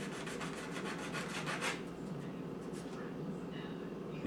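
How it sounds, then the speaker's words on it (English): Small N scale model building parts are rubbed on sandpaper in a quick series of short, soft rasping strokes at close range, then a quieter, steadier scratching follows. "So we just rub them a little bit on the sandpaper."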